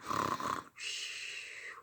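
A voice imitates a sleeping grandmother snoring during a read-aloud of a bedtime picture book, giving one drawn-out raspy snore followed by a short snort at the end.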